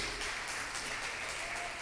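Church congregation applauding during worship, a steady dense wash of clapping heard alone without speech.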